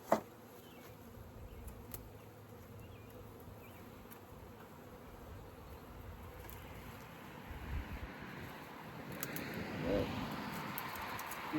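A honey bee swarm gives off a steady, low buzzing hum that thickens toward the end, heard outdoors with some wind and no clear talk.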